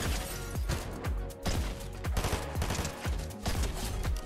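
Rapid, punchy shots ring out one after another in a Fortnite ranked solo match while sniping, each a sharp crack with a short decaying tail, fired in an uneven but steady rhythm.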